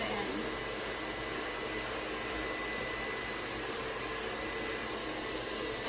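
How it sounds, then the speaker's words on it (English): A blow dryer blows steadily through a hair styling session, its loud, even rushing whoosh running unbroken from start to end. "I'm going to switch my blow dryer"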